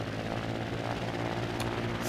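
Engine of a player-built plane in the building game Trailmakers running steadily after ignition, a continuous droning, rotor-like hum held at even loudness throughout with no talk.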